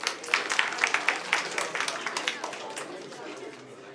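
A youth group audience claps in a lively burst with sharp individual hits and chatter mixed in, tapering to a softer patter.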